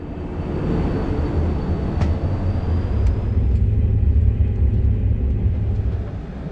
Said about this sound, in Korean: 8번 플랫폼에서 기차를 타고 출발합니다.